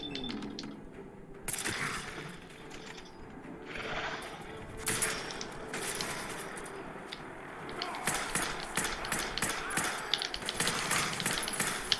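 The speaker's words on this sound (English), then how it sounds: "Are they shooting lasers at me from all the way over there?" Laser gunfire in Fallout fired from a distance, a scattered series of sharp crackling zaps and bursts, some in quick rapid clusters, over a noisy background of gameplay.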